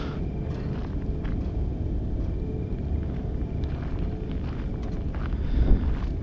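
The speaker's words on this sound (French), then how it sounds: "C'est le vent, je crois." Steady, low rumbling wind fills the scene, a continuous roar that swells slightly toward the end.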